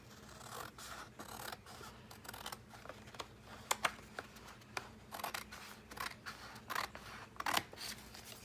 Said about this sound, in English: I'm gonna cut this page so I can get a feel for how this is going to go